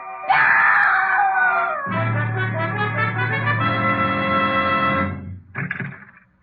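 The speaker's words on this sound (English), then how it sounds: "I heard a scream." A woman screams in an old-time radio mystery drama from 1942, a long, loud wailing shriek that falls in pitch and holds for several seconds, backed by a dramatic musical sting, then a short second cry.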